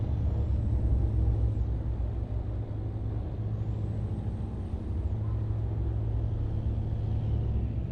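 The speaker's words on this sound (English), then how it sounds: "why do they have to hit their brakes so much?" Truck air brakes in American Truck Simulator hiss in two short releases over a constant low engine rumble.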